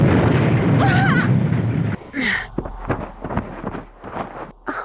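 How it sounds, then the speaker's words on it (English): A loud, rumbling video game explosion in Nancy Drew: The White Wolf of Icicle Creek with whooshing debris noise, then a quieter stretch of scattered crackles and thumps as it dies away. "Sounded like an explosion."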